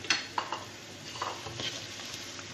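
About three medium onions hiss and sizzle in hot oil in a home kitchen, with quiet scrapes and light clinks of a utensil stirring in the pan, close and fairly soft.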